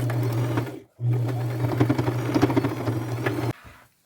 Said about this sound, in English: I will put a straight stitch as close to the top of the bag, catching all that ribbon as I can.